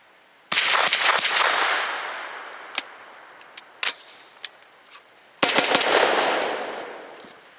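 A Grand Power Stribog fires SIG 365 Elite 115 grain full metal jacket rounds in two rapid, loud strings of shots, close up, with a few scattered single clinks and pops between the bursts.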